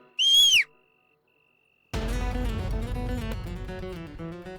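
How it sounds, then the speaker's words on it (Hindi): One short, shrill warning whistle blast sounds close by, then a pause of silence before loud music begins. "मैडम से मैं सीटी बजा दूंगी"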